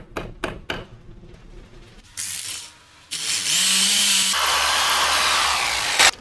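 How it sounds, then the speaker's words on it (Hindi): A power drill bores a hole into a 19mm plywood panel for a loft frame after a few light taps, whining and grinding steadily for several seconds up close, then cutting off with a final knock. "ये पेंच की मदद से इसमें एक सेंटर में होल ले लेना है, ताकि हमारा जो बिट है होल करते वक्त स्लिप ना हो"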